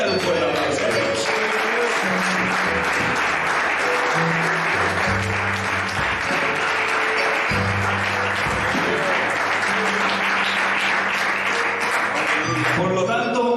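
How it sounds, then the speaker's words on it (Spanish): A church congregation applauds thickly and continuously from start to finish, with low tonal sounds underneath. "Dale un fuerte aplauso a Dios."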